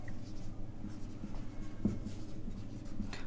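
Pen or marker strokes on a board or paper during a maths lesson, a steady run of soft scratchy writing with one sharper tap near the middle, close and fairly quiet, with no talking.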